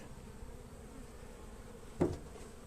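Honey bees buzz around a hive being transferred, a faint continuous hum with a brief louder bump near the end, no speech.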